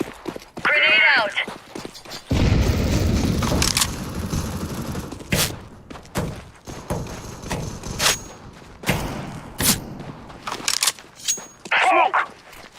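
A grenade detonates in Counter-Strike: Global Offensive, a loud deep burst that rumbles for a few seconds amid sharp gunfire cracks and other game effects.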